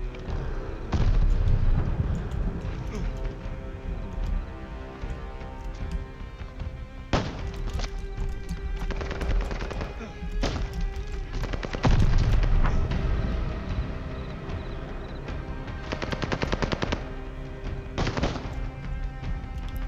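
Scattered gunshots in Call of Duty Vanguard: a handful of sharp, loud cracks at irregular intervals over a constant background rumble of combat.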